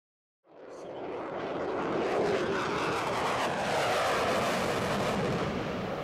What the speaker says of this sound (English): Lockheed Martin YF-22, Raptor. Fifth generation fighter technology demonstrator.